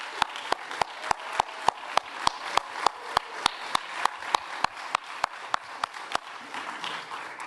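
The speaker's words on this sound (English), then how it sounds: "can we give a round of applause to the amazing staff of the Downtown DC Business Improvement District?" Steady rhythmic claps ring out from an audience at an annual business meeting, a clear sharp beat roughly every third of a second over a softer crowd clatter, stopping just past six seconds.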